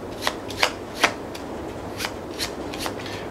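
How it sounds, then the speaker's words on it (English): Cards from a Porta Nigra board game action deck are shuffled by hand, giving a series of crisp riffling snaps at uneven intervals, close and clear with no talk. "You're going to shuffle your action deck."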